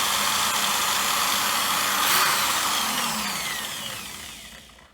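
A power drill runs steadily, boring through the body of a loaded waggler fishing float, its whine holding close and loud before slowing and fading away toward the end.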